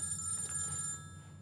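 A telephone rings indoors, a loud steady electronic ring repeating through the short stretch with no talking over it.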